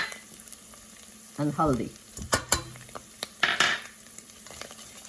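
Keema, ground meat with salt, dry ginger and haldi, is stirred in a hot pan, with a constant sizzle under scraping bursts and sharp clinks of a spoon against the pan. A voice speaks briefly.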